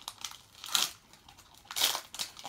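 A Pokémon Shining Legends booster pack wrapper is torn open up close, with two sharp bursts of foil crinkling and crunching separated by quieter rustling handling, no voices.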